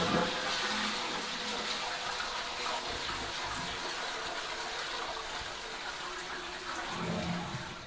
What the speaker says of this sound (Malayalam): മൂടിയതിന് ശേഷം ഫ്ലഷ് ഉണ്ടല്ലോ അപ്പോൾ നമ്മൾ ഫ്ലഷ് ചെയ്യുക